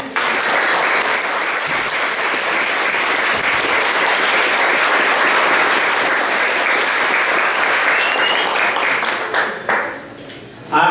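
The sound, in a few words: dinner audience applause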